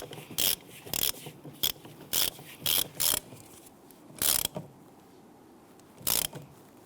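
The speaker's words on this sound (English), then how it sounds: "we should be able to go ahead and thread that in and tighten it down." Ratchet wrench threading in and tightening a bolt on a 2011-2021 Jeep Grand Cherokee front upper control arm, giving close, loud bursts of ratcheting clicks about nine times at an irregular pace, with quiet handling noise between them.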